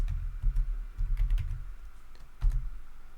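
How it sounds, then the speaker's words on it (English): Steady typing on a computer keyboard during spreadsheet work in FreeCAD BIM, with close, quiet key clicks in irregular bursts and a brief pause partway through, no voices. "I will type in here width, and here I will type in height"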